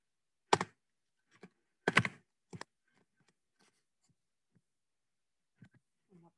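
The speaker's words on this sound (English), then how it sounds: "we could easily go and just type in our range from here" Close, crisp bursts of typing on a computer keyboard: a short flurry, a pause, then two more quick clusters, with a few light stray taps trailing off in an otherwise quiet room.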